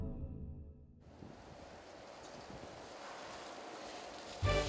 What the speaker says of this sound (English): the answer is the waterproof test